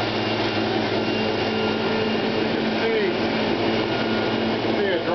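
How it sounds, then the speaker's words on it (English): An old mill's hydroelectric turbine spins, turning a drive shaft and big pulley with two small generators, making a steady loud mechanical hum and rumble heard close up in the mill house. "you can hear and see the turbine spinning"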